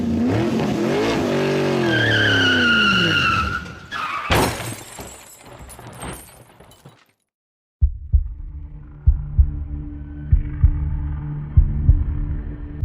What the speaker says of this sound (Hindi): कार का बहुत बुरा एक्सीडेंट हो गया